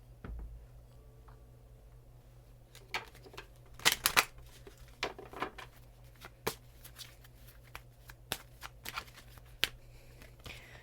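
Tarot cards being shuffled by hand in a quiet room, with soft riffling and tapping bursts scattered across the clip and a louder flurry near the middle.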